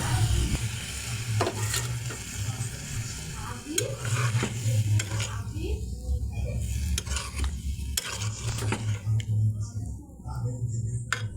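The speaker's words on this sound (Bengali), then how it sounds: "মশলার ডিমটা একটু ভাজা নিলাম" Eggs frying in a spiced masala in a pan, with a continuous sizzle broken by repeated scraping strokes of a spoon stirring against the pan, close and moderately loud, without speech.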